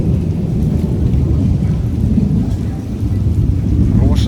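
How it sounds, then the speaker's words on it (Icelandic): Heavy rain pours down steadily while thunder rolls and rumbles low throughout, loud and close with no pause. "Það byrjaði einhver insane rigning."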